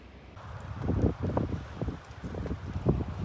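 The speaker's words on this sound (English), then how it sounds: "Little less windy today." Wind gusts through a garden with baby peonies, producing low rushing and rustling bursts that swell and fade in uneven waves at close range.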